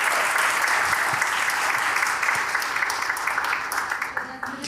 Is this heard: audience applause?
yes